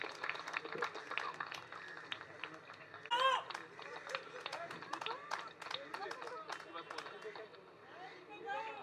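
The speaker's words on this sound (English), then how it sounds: "Loud round of applause, please" Dense, steady clapping fills a crowded awards ceremony for a photography prize in Mumbai, with a brief louder swell near the middle and voices chattering underneath throughout.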